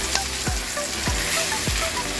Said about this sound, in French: Et là, nous allons laisser mijoter encore un peu